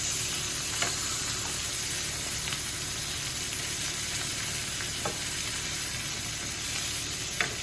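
Filet mignon steaks sizzle steadily in a hot pan, a close, even crackle and hiss that runs throughout with occasional faint clicks and no talking.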